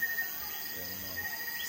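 Insects chirp at a campsite at night, a faint, steady high-pitched trill with soft background hiss and no voices.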